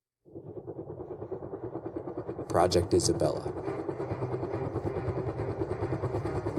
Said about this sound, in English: So the helicopters we used, they're called MD-500s. Small helicopter, they're for 4 passengers and 1 pilot